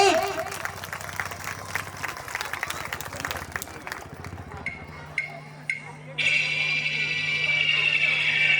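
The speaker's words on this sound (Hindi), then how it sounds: "तो आइए जोरदार तालियों से स्वागत करते हैं हमारे नन्हे डिस्को डांसर्स का।" An audience claps for a children's LKG dance at a school annual function, a steady wash of applause and crowd noise under someone speaking.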